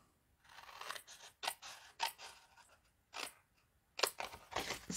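Scissors snipping through paper while a paper album and its box are assembled, a series of short, crisp cuts in irregular bursts, close and fairly quiet, with no voices.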